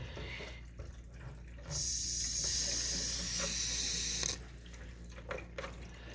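Water rushing through new PEX plumbing as a house refills, a faint trickle that bursts into a loud, steady hiss for a few seconds and then drops back to quiet dribbling and air gurgles.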